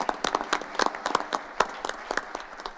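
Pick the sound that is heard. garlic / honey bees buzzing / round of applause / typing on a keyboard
round of applause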